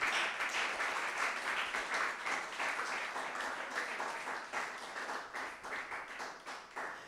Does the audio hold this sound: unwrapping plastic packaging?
no